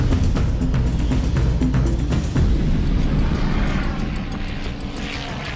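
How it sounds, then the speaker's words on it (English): The Ipanema single-seater propeller plane, flying on sugarcane alcohol fuel, gives a steady loud engine drone that fades slightly as it moves away. "This single-seater plane called Ipanema is making history."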